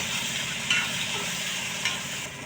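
Tomato frying in a pan with turmeric and red chilli for an Assamese spinach dish, a continuous close sizzle broken by two brief scrapes of stirring.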